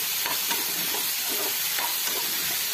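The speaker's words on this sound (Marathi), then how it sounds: "हे फुल गॅसवर आपल्याला 2 ते 3 मिनिटांपर्यंत छान असं वाफून छान असं परतून घ्यायचं आहे तेलामध्ये।" Cauliflower and potato pieces with turmeric frying in oil in a pan over full heat, giving a steady, loud, close sizzle and hiss with a few soft stirring scrapes.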